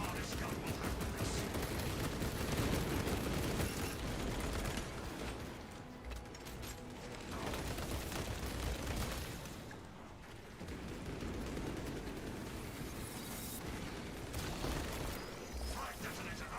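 Servo harness gun firing in the Space Marine 2 video game, a dense continuous barrage of loud rapid shots and mechanical clatter with brief lulls, mixed with explosions and game effects.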